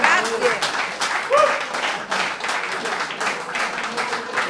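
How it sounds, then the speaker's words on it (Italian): An audience applauding Laura Conti at a Langa folk event, a dense spread of clapping that swells and eases, with voices mixed in. "Un applauso per Laura Conti."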